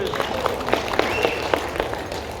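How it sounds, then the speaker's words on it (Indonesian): An audience at an evening business gathering in Jogja claps in a moderate, steady patter, with murmuring voices underneath. "Tepuk tangan."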